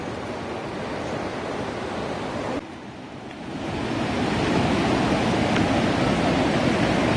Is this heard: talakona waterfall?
yes